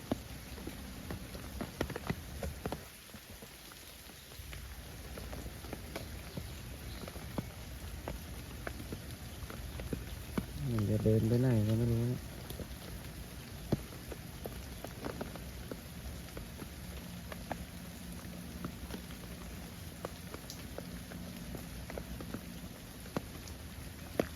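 Heavy rain pours down around a forest hideout in a constant, dense roar with a brief louder burst midway, close and sustained, with no one speaking.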